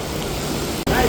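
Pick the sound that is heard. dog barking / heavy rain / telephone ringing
heavy rain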